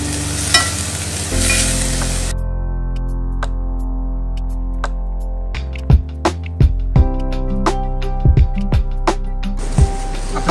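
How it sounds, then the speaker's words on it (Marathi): Moong beans with turmeric sizzle steadily in a hot pan while being stirred, a continuous frying hiss punctuated by repeated sharp scrapes and clinks of the spoon against the pan, close and fairly loud. "आणि हे जे आपण मूग घेतलेले आहेत ते आता आपण ह्याच्यात घालूया. आणि आता हे आपण ढवळून घेऊया."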